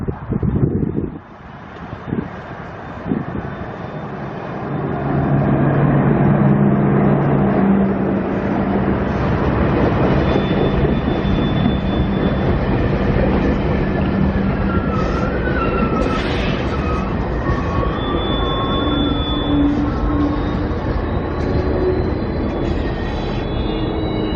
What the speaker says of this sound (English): the southbound Spirit of Queensland from Cairns to Brisbane is now arriving in Tully